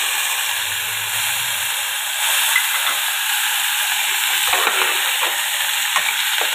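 Chopped tomato drops into hot mustard oil with panch phoron for a tomato chutney, setting off a loud, continuous sizzling hiss that stays steady throughout, with no speech.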